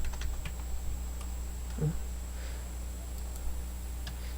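Soft, scattered keystrokes from typing numbers on a computer keyboard, faint and irregular over a steady electrical hum and background noise.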